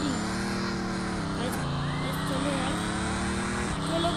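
A car in the video game Dude Theft Wars drives steadily, its engine droning and shifting pitch slightly, with someone talking over the top throughout.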